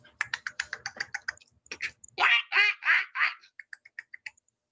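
A duck quacks in a run of loud, rasping calls in the middle, preceded by a fast clatter of computer keyboard typing and followed by lighter clicks.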